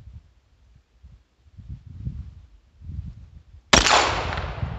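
A single sharp crack from a Beretta Neos .22 pistol at an outdoor range, sounding suddenly after several seconds of faint low rumbling and leaving a bright, ringing decay.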